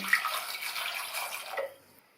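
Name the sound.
water poured into a pressure cooker with baby potatoes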